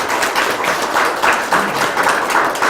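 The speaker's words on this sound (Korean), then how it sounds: "자축하는 의미에서 잘 하자라는 의미로 박수 한번 치고 시작 한번 할게요" A group at a Korean big data course project presentation applauding together, dense steady clapping filling the room for a few seconds, loud and continuous.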